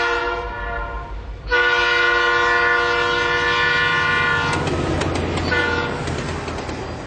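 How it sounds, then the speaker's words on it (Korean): A loud freight train rumbles past up close, a long horn blaring over the heavy clatter of wheels and cars rolling by. "놀랍게도 그것은 긴 화물열차였습니다."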